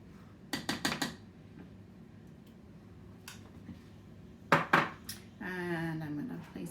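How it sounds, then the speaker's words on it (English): Food moved from a large bowl into a small one-cup prep bowl while building a charcuterie board, giving a quick run of light clicks and scrapes, then a pair of sharper taps and a soft rubbing sound, all faint and with no talking. "I'm going to transfer some of it into our 1 cup prep bowl"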